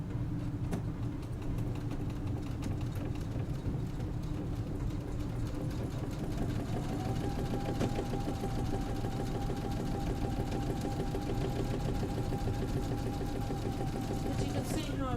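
A sewing machine runs continuously along a fabric seam, its edge guide following the seam allowance, giving a close, steady mechanical whir with a fine rapid stitching texture throughout.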